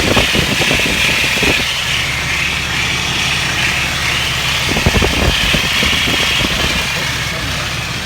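Car engine cranked and idling after an electric fan clutch install, a loud steady rumble with a rough low drone and some knocking bursts, close by, with talk over it.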